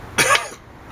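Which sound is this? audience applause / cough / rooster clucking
cough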